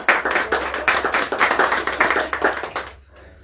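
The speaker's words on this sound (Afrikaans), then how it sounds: "Kom ons gee vir haar lekker hande klap." A church congregation claps for a special guest at a morning worship service, steady loud rhythmic clapping from many hands close by, stopping abruptly near the end.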